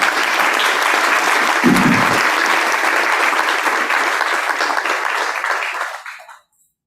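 A conference audience applauds after a keynote speech, a loud sustained wash of clapping that holds steady, then tapers and cuts off into silence near the end.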